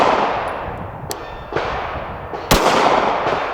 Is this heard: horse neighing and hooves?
no